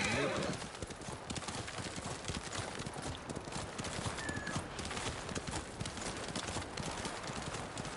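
Horse hooves clop rhythmically in a steady, close gait in the video game Ghost of Tsushima, with a horse whinny near the start.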